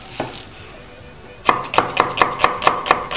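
An onion being chopped with a knife on a board: a couple of isolated cuts, then a steady run of about eight crisp, evenly spaced chops, close and clear.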